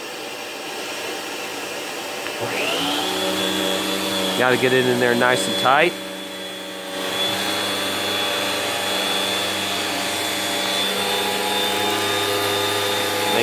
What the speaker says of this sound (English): You could just hear the hiss of the suction, which is pretty freaking good.